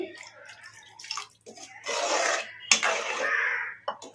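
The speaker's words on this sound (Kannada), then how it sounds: "ಇನ್ನು ಒಂದು ಗ್ಲಾಸ್ ಅಷ್ಟು ನೀರು ಹಾಕೋಣ" Water is poured in a couple of splashing bursts into a pot of egg masala curry, with small clinks and scrapes of utensils between pours.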